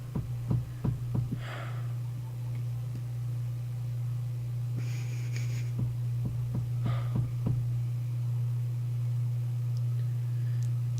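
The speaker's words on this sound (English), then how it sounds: "I'm getting a heartbeat sound effect" A heartbeat sound effect plays during an NHL 19 hockey game: soft, evenly spaced low thumps in pairs sit over a constant deep hum, with no talking.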